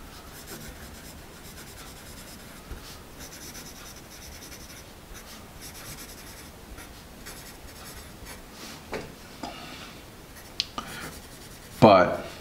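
A Nataraj Marble HB pencil, a firm HB grade, writes on paper in a steady series of soft, close scratching strokes, ending with a brief louder scrape.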